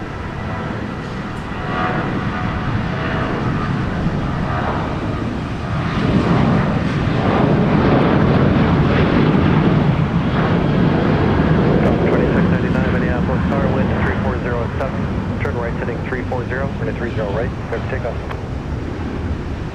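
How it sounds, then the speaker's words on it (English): A Southwest Airlines Boeing 737-700 departs Minneapolis–St. Paul airport with a broad, steadily building jet roar that swells and sustains at a distance, with voices talking over it. "Southwest Flight 2159 to Austin, Texas with the 737-700"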